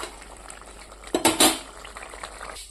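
A metal cooking pot of fish and vegetable curry is lifted off a stove: a short cluster of clanks and scrapes, then a soft ongoing hiss.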